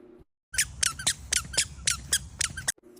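Rapid, high-pitched squeaks in an uneven stepping rhythm, like a child's squeaky shoes, loud and close, with brief quiet gaps at the start and end.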